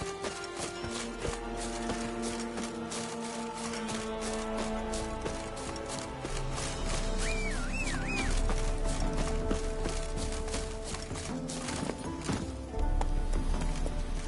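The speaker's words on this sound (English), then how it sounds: "Oi, clumsy horse." Horse hooves clip-clop steadily in The Witcher, set against a dense, continuous game soundtrack and ambience that stays loud throughout, with a brief whinny-like cry partway through.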